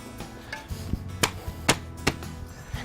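Pavers are tapped down before screeding, giving a series of sharp, irregular knocks and thuds, some louder than others, spaced under a second apart against a low background hum.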